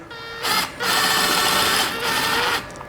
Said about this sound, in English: Use a self-tapping screw, it'll go in easier.